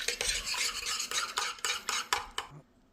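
A whisk beats quickly around a bowl, blending a small mixture for a Hungarian goulash with Guinness, giving a run of rhythmic, bright scraping strokes close up that slow and stop near the end.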